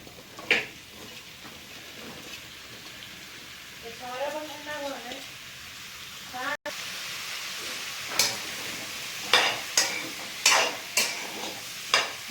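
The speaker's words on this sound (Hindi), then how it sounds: "इधर मक्खन हो चुका है मेल्ट। अब इसमें हम डाल देंगे मशरूम।" Mushrooms sautéing in melted butter, a quiet sizzle with a few stirring knocks and scrapes against the pan, under a speaking voice.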